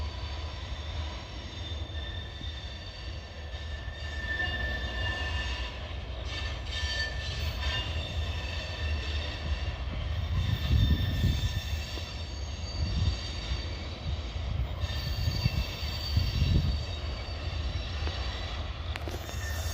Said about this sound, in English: that's the train he pulled in there yesterday.